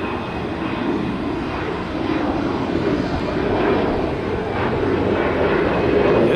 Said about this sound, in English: Ooh, that second plane is a heavy.